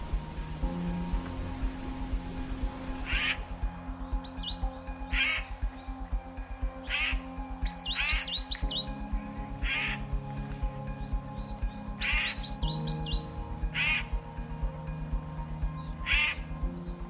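Birds call in the mountains of Vermoshi Valley, with short repeated chirping bursts spaced a second or two apart over a steady, fairly loud low background hum.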